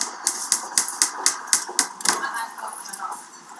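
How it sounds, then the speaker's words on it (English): Sharp, regular hammer blows ring out about every quarter second, loud and close, over a steady construction-site wash of machinery and clatter that carries on after the strikes fade. "So I can hear the sound of the construction site and the hammer together."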